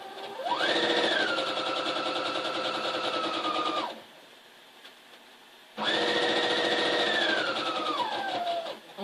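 A sewing machine stitches a seam on flag fabric in two steady whirring runs of a few seconds each, the motor speed rising and easing, with a quiet pause between them and nearby handling noise.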